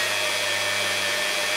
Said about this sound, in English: You can see the drill wobbling as it's just the magnetic field is binding